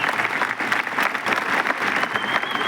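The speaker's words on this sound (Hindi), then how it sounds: "मैं चाहता हूं कि एक बार अमित मिश्रा सर के लिए जोरदार तालियां होनी चाहिए" Steady, loud applause from an audience honouring Amit Mishra at a business event, a continuous dense wash of many hands clapping throughout with no pause.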